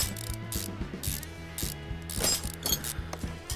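Bolts come off in the video game Car Mechanic Simulator 2015 as a rapid sequence of ratcheting clicks, several quick bursts in a row at close range, with no talking.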